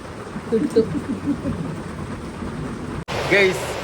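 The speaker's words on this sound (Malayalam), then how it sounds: "മഴയൊക്കെ പെയ്യുന്നുണ്ട് ഇവിടെ" Rain pours down with rumbling thunder, a steady wash of noise with low rolls. Muffled voices are heard under it, and it grows louder near the end.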